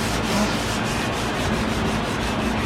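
Continuous close scratchy sanding of clear coat on a car bumper, a hand rubbing abrasive back and forth over the hard surface in steady strokes.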